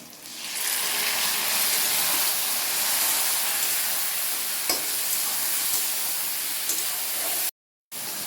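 Ground spices dropped into hot oil in a pan for a hilsa fish curry set off a loud, even sizzle and spraying hiss that runs unbroken, with one brief dropout near the end and no voices.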